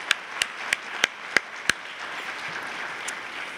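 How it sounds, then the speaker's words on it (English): At a hall-of-fame induction ceremony, a round of applause for volunteers comes through as six sharp, evenly spaced claps close by, followed by a softer wash of scattered clapping that fades out. "Join me in a round of applause."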